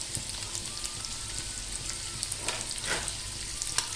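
Green chillies and onions frying in a pan, heard as a steady close sizzle with scattered crackles and a few louder pops toward the end, no voices present.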